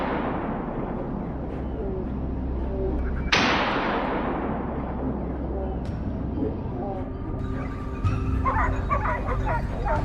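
Hunting dogs bark repeatedly and loudly during a wild boar hunt outdoors, with yips and whimpers mixed in and a sharp bang partway through, the barking continuing steadily across the whole stretch.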